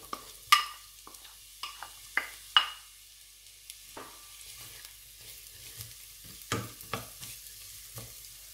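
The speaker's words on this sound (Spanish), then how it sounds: "vamos a empezar a sofreír la cebolla" Onion sautéing in oil in a pan, a quiet low sizzle broken by scattered spatula scrapes and taps at irregular intervals, close by with no talking.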